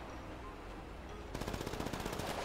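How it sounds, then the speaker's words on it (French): Rapid automatic gunfire in a hide-and-seek round of a shooter game rattles in a fast, even burst of close shots that starts abruptly halfway through, after a dense noisy background. "T'as entendu mes coups de feu ou pas?"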